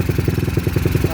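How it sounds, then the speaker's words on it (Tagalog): A motorcycle engine fitted with a 28mm PWK flat slide carburetor idles steadily, a loud, close, even rapid chugging pulse with a slight mechanical clatter. "Painitin lang natin ng konti yung makina, then check natin, medyo tumataas yung minor niya."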